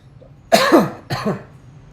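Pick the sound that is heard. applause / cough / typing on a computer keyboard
cough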